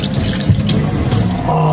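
Tap water runs steadily into a kitchen sink while a bottle gourd (upo) is washed under it, a close, continuous splashing flow with no talking.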